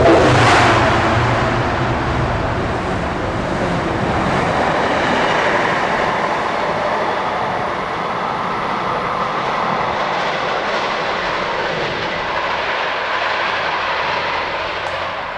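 A rebuilt F40 diesel locomotive hauls a commuter train through Forest Hills during rush hour, a loud roar peaking early as the engine passes, then a steady rumble of railcars rolling by that gradually fades.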